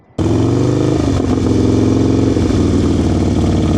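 A motorcycle engine starts up abruptly and runs loud and close at low throttle during a riding lesson, a rough, uneven idle with a slight shift in pitch partway through.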